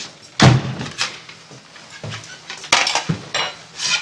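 Dishes clatter and clink inside a glass cabinet in a crime drama scene, with several sharp knocks and rattles spread irregularly across a few seconds, close and fairly loud.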